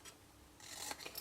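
Scissors snipping through paper while a rainbow unicorn candle gift is being made, heard as a faint, close rustle that ends in a few quick soft cuts.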